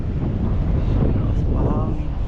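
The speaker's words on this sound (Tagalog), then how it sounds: "Lakas mahangin." Strong wind buffets the microphone at the shore during a shore-casting fishing trip in the Philippines, a loud continuous roar with a faint hint of water and a brief voice in the background.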